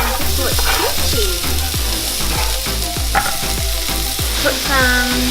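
Kimchi being stir-fried with onion and caramelized soy sauce in a hot pan, a loud, dense sizzle with quick, repeated scraping strokes of a spatula stirring it up close.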